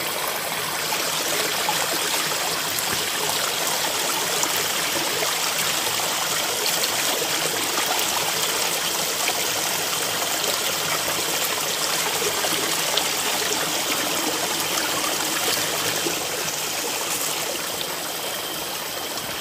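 A clear jungle stream flows steadily in a forest, producing a constant close, even rushing and trickling wash of water with no voices.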